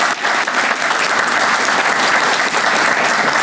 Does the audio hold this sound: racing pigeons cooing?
no